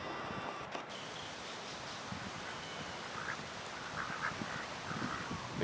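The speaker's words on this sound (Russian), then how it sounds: "Это гавайские кривохвостые кряквы." Hawaiian ducks quack faintly and sporadically at a distance, half buried under a steady hiss of outdoor ambience.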